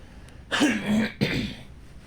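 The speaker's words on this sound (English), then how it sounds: "I really need to clear my throat" Two short, raspy throat clears close up, one right after the other, in an otherwise quiet room.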